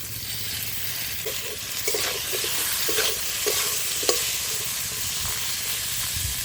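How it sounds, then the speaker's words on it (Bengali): Potato pieces fry in hot oil in a wok over a strong fire, a steady close sizzle broken by several scraping stirs and clinks of a spatula. "আলু ভাজা হয়ে গেছে আলু তুলে নিচ্ছি"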